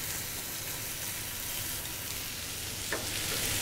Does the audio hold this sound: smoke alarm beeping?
no